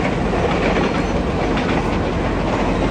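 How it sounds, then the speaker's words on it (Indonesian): Close by Depok station a passing train fills the air with a steady, heavy roar and rattling wheel clatter on the tracks, loud and unbroken, with no speech over it. "Sepi ya, dan ada kereta lewat."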